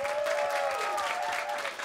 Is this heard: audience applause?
yes